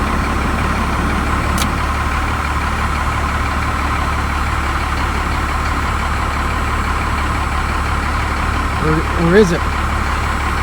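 A first-generation Cummins diesel engine idles steadily with the heater fan running, a constant low rumble filling the whole stretch while someone talks briefly over it.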